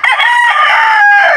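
A red jungle fowl rooster lets out a single loud, close crow that holds steady and then drops off at the end.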